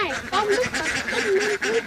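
Ducks on a farm quack and honk in a few nasal calls, moderately near, mixed with ambient farmyard noise and some speech in the background.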